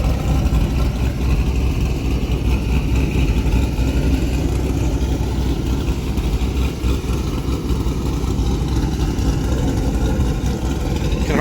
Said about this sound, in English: That is the stock titanium catback with the bypass mod done.